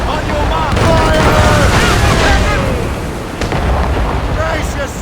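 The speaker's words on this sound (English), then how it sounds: "They're firing mortars!" Mortars and cannon fire explode in a naval engagement in Assassin's Creed Rogue: loud, continuous booming and crashing blasts roll on under shouted voices, easing briefly before another burst near the end.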